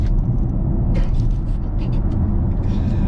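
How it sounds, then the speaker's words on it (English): A Volvo XC40 P8 Recharge AWD First Edition electric SUV accelerating hard gives a steady, loud road and tyre rumble that stays even throughout. "I'm just going to put my foot down one more time for fun."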